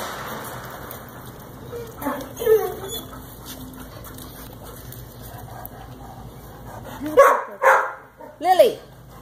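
A puppy in a sectioned-off patio area gives a few short yips and whimpers, growing louder in two quick bursts near the end, over a quiet background.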